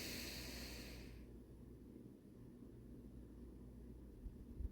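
A slow, deep breath drawn in during guided meditation: a soft, airy inhale fills the first second, then fades into a quiet, still room with low background hum.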